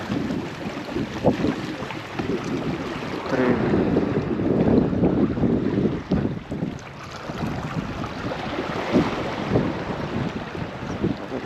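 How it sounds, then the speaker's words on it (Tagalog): Steady wind buffeting the microphone at a seaside fishing spot in Ternate, Cavite, a broad continuous rush that swells and eases over several seconds, with no voices. "Hangin."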